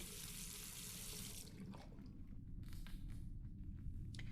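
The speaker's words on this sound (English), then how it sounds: "And then rinse the plate." Water pours steadily from a tap, rinsing a photographic plate in a video game. A continuous splashing rush with a few small knocks.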